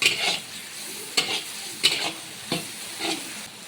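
Tomatoes frying in a meat curry pot for a school teachers' feast, stirred in repeated scraping strokes about every second over a steady sizzle, close and fairly loud with no talk.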